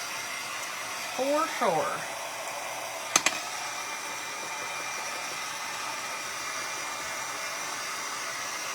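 A hair dryer blows steadily over an embroidery hoop snowman craft, an even whooshing hiss throughout, with brief talking near the start and a couple of small clicks.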